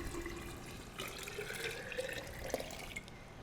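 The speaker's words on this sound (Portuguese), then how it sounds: "E vamos colocar 1 litro de água." Water poured from a container into a glass jar of germinated grain, a steady trickling and splashing stream lasting a few seconds with a brief drip-like clink near the end, no voices.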